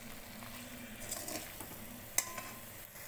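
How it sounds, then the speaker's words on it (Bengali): Prawn malai curry masala sizzles gently in a pan while a utensil stirs it, producing a soft, steady frying hiss with light scraping and one small clink, quiet and close. "দিয়ে আবারও কষিয়ে নেব। আলতো হাতে নাড়াতে হবে।"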